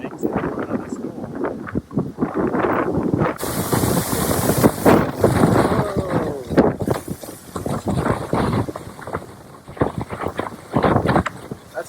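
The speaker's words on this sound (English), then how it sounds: "That's a big wave." Large hurricane waves crash against shoreline rocks beside an old seaside building, with broadband roaring surges and heavy wind buffeting the microphone in rough, uneven bursts throughout.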